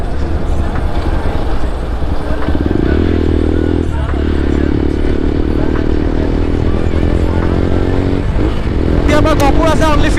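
A Hero XPulse 200 motorcycle with a loud Akra exhaust, ridden on a road between Itanagar and Gohpur, growls steadily and rises in pitch through gear changes with brief dips, while someone talks over it.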